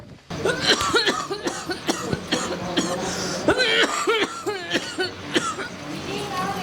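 Repeated coughing bursts mix with a person's voice, close and fairly loud, with some throat clearing among the coughs.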